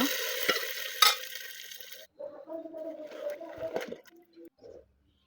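A spoon stirs a tempering of chopped garlic, onion and cumin in a pot for beef khichuri made in a rice cooker. Soft sizzling and scraping come first, then it quiets to a few irregular stirring scrapes and clinks.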